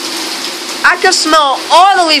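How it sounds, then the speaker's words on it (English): Heavy rain pouring down outside during a thunderstorm, a steady broadband hiss running throughout while a person talks excitedly over it. "it's raining hardcore"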